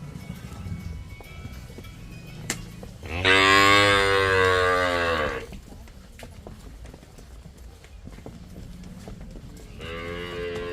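A cow lets out one long, loud moo, with quieter shuffling and a shorter second moo beginning near the end; background voices and farmyard noise.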